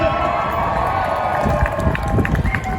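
Protest crowd at a pro-Palestinian demonstration in Leeds cheering and applauding outdoors, a dense, steady roar of many voices and claps with scattered whoops rising toward the end.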